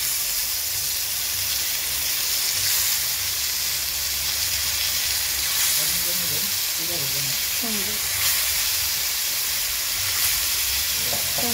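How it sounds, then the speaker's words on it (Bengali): Chicken fries in hot oil with a steady, loud hiss and sizzle throughout, close by, while a voice speaks faintly underneath partway through. "তো বন্ধুরা দেখেন, যে আমি চিকেনটা ফ্রাই করে নেবো।"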